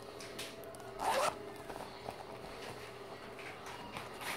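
A zipper on a cosmetics bag decorated with lace and a little bat-shaped pull is drawn once in a short, close, raspy burst, with quiet room noise around it.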